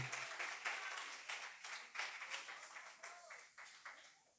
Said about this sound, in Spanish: Dando un fuerte aplauso